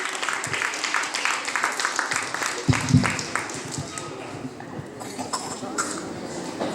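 Applause from a school audience for a pupil who has just correctly spelled a word in a French spelling contest: a dense, steady patter of clapping hands, briefly swelling midway, with some talking mixed in.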